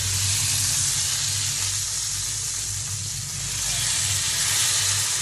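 Fish fries in a pan with a loud, steady hiss of hot oil over a low rumbling hum, and a voice speaks over the sizzle.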